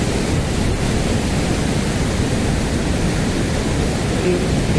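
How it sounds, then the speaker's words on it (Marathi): Steady, dense roar of a full waterfall at the man-made Khorninko dam in Lanja, Ratnagiri, broadband and unbroken throughout, loud and close with no pauses. "काय धबधबा तो बघा"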